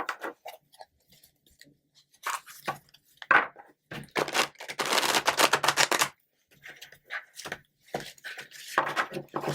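A deck of cards being shuffled in bursts of riffling and soft flicking, with gaps between and a brief fumble, close and fairly quiet.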